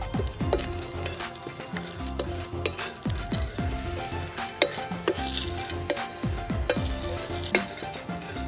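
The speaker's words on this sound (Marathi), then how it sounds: "आता या भाजलेल्या मिरच्या, लसूण आणि शेंगदाण्यांना तेलावर जिऱ्याची फोडणी देऊया" Cumin seeds tempering in hot oil over roasted green chillies, garlic and peanuts, sizzling steadily up close with repeated metallic clinks and scrapes of a spoon stirring in the pan; no talk.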